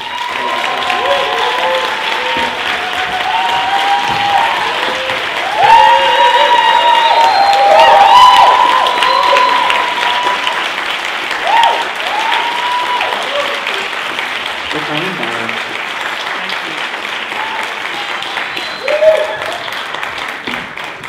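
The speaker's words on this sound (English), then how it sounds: "can we just give them a round of applause" Loud, sustained audience applause and cheering at a film festival Q&A, building then tapering over about twenty seconds, with scattered voices and whoops mixed into the clapping.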